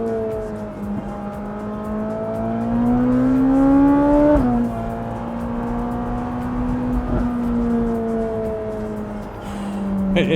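A Ferrari engine revs hard on a driven road, pitch climbing steadily then dropping sharply with a downshift blip and settling into a sustained loud drone, close and without talk.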